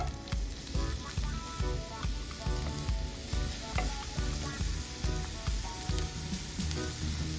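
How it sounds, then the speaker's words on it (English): Onions and celery sizzling in hot oil in a pot for Jamaican gungo rice, a loud dense crackle with a rapid irregular popping rhythm throughout, close up and without talk. "All right, so now I'm going in with my onions and celery as mentioned earlier."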